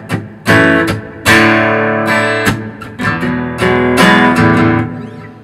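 Acoustic guitar strumming measure 53 of a song at slow speed: a steady pattern of strong down and up strums with muted hits between chords, close and fairly loud, with no talking.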